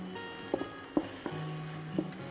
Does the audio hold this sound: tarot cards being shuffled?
no